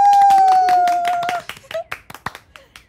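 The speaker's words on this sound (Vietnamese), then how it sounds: "Vậy thì cả nhà mình cũng vỗ tay chúc mừng." Family members clapping at home, a loose run of separate hand claps that starts after a voice and continues unevenly for a couple of seconds.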